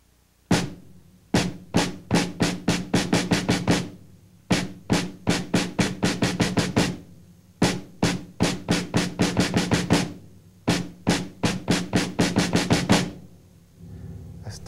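Drum exercise played with the right hand on a kit while the flat-footed right foot works the bass drum, running through quarter notes, eighths, triplets and sixteenths in repeated accelerating phrases of sharp, close hits with brief gaps between.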